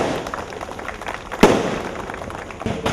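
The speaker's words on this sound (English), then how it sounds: "These fireworks will go on till 12 tonight." Fireworks crackle and pop in the distance, with one sharp loud burst near the middle over a steady rumbling background.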